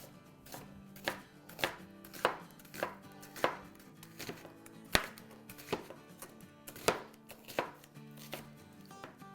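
Knife roughly chopping an onion into large pieces on a board, a steady series of sharp close thuds at about two per second, quiet and alone.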